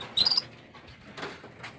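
Young goldfinch and Venezuelan siskin hybrid birds in a cage give one short, high chirp near the start, then faint fluttering and rustling follow, with no voices.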